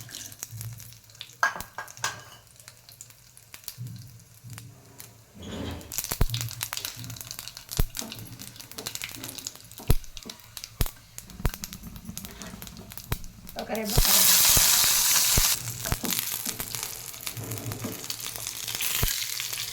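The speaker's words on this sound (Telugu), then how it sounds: "ఆయిల్ వేడయ్యాక హాఫ్ టు హాఫ్ స్పూన్ ఆవాలు హాఫ్ స్పూన్ జీలకర్ర ఒక ఎండమిర్చి ఇట్లా తుంచుకొని వేసుకోవాలి" Mustard seeds, cumin and a torn dried red chili hit hot oil to temper a peanut chutney, crackling and sizzling with the clatter of a stirring spoon, and a loud burst of hissing comes near the end. A voice talks over parts of it.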